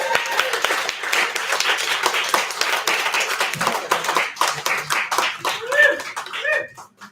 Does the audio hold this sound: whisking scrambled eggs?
no